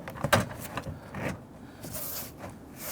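A rear door panel on a 2007-2014 Cadillac Escalade being lifted into place, with soft plastic scraping, rustling and light knocks in brief bursts, close up and moderately quiet.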